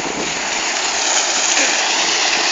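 A strong mountain stream rushes loudly and steadily nearby, a dense continuous wash of flowing and splashing water with no breaks and no voices over it.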